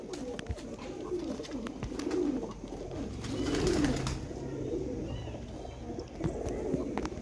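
Pigeons of a show breed coo in low, rolling murmurs that swell and fade continuously, with a faint background hum and no talk.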